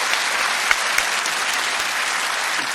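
A studio audience at The Last Leg TV show claps in a steady, loud, dense burst that holds at an even level for nearly three seconds.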